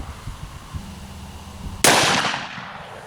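A single sharp, loud .357 Magnum shot firing a 125-grain hollow point at a ballistic gel test setup, a sudden crack that decays quickly after a stretch of low background rumble.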